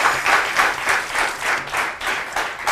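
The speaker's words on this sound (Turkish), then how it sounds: "ne güzel alkışlar geldi valla" A television studio audience on a Turkish morning talk show claps in a dense, loud burst, swelling and easing in quick waves, with no talk over it.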